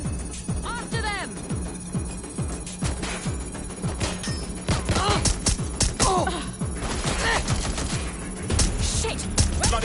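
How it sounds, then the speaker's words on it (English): Gunfire in the video game Watch Dogs: Legion, with rapid bursts and sharp impact cracks spread throughout, mixed with loud game effects while a voice speaks over the action. "Gunfire!"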